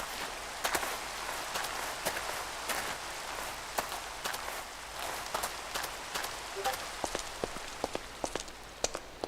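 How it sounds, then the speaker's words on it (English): Rain falling in the video game Reclamation, a steady patter of drops with sharp, irregular louder splashes scattered throughout, heard alone and fairly faint. "I understand it's raining."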